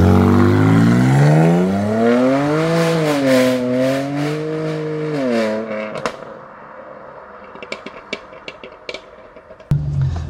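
A BMW M2 Competition with a full Akrapovic exhaust line revs hard in rising and falling sweeps, then lifts off into a long string of sharp exhaust crackles and pops, loud and close.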